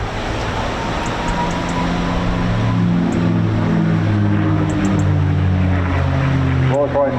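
A propeller aircraft of the Rolls-Royce Heritage Flight displays at the Bournemouth Air Festival 2022, its loud, steady engine drone filling the air with a low throbbing roar that shifts slightly in pitch as it passes.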